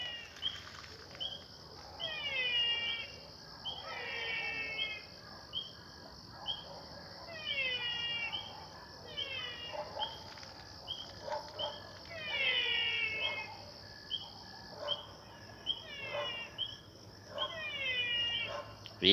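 Frogs and insects call from a marsh beside a house at night. Chirping frog calls come in repeated bursts every few seconds over a constant high insect whine, at moderate distance.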